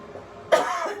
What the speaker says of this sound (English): I cough quite a bit when my allergies get going really good